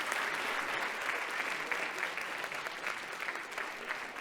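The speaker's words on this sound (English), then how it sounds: "a warm round of applause for our speakers" A symposium audience gives a steady round of applause for a panel of education leaders, a dense, even wash of many hands clapping, moderately quiet and sustained.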